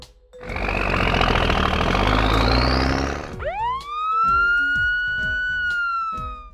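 Police car siren in a children's car cartoon, a loud rising wail that climbs for three seconds, then sharp swooping yelps over pulsing music beats.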